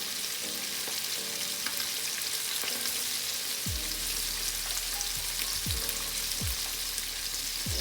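Fish fries in hot oil with a continuous close crackling sizzle, joined by a low hum and a few scraping stirs.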